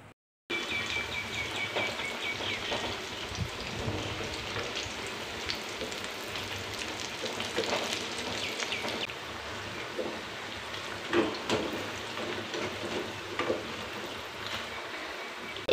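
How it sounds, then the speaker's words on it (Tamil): Jackfruit seed vada frying in hot oil, a steady dense sizzle and crackle that holds close and even throughout, with no one speaking. "எண்ணெயில் நல்லா ஒரு பக்கம் வெந்ததும் நம்ம இன்னொரு பக்கம் திருப்பி போட்டுக்கலாம்"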